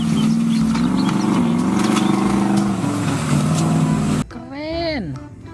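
An off-road car's engine rumbles steadily and close for several seconds, then stops sharply and a voice speaks briefly.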